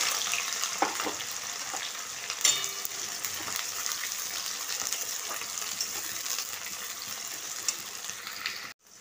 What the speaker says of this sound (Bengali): এবার আমি পেঁয়াজগুলো তুলে দিলাম।